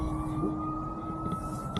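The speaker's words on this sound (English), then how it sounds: "Sorry for the sirens." A steady emergency-vehicle siren wails outdoors, holding a sustained tone at moderate distance throughout, with no talk over it.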